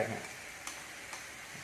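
Squid stirred with mashed salted egg in a hot pan, a steady sizzle with a couple of faint spatula taps, no talking.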